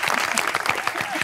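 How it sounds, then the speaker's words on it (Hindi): A brief burst of audience applause at a talk show, a dense patter of clapping hands that fills the short moment at moderate loudness. "तालियां।"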